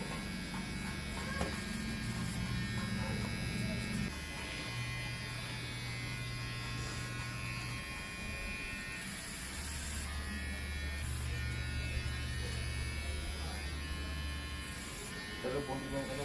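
Electric hair clipper shaving a head, a continuous buzzing hum running the whole time with shifting pitch as it moves, while people chat casually over it.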